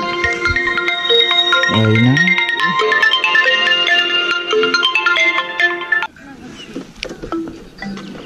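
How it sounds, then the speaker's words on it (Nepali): A phone rings loudly and close with a repeating melodic ringtone that fills most of the stretch, then cuts off, with a person speaking briefly near the end. "मलाई घरबाट फोन"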